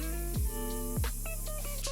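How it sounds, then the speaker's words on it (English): A TEMPTU One airbrush blows leftover liquid foundation out onto a tissue, a steady close hiss running throughout with a faint mechanical hum beneath. "I'm just gonna spray the excess, anything that's left in there, out onto my tissue."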